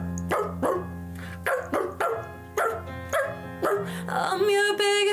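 Woman imitating a dog, giving a series of loud, close barking yelps in an uneven rhythm with short gaps, voiced and tonal, ending in a drawn-out howl-like sound.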